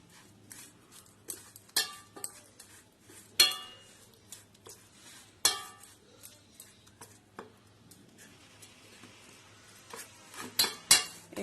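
A metal spoon stirring yogurt in a bowl, with irregular light clinks and taps against the bowl's side, some louder scrapes, spread over several seconds with no talking.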